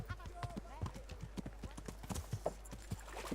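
Horse hooves clip-clopping at a steady walking rhythm in the video game Kingdom Come: Deliverance, close and distinct, with someone talking over them.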